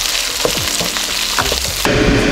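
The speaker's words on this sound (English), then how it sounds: "we're going to add in half of this chili sauce in there." Chili sauce hits a hot wok while cooking Taiwanese beef noodle soup, giving a steady, loud close sizzle with brief stirring scrapes, the frying swelling louder near the end.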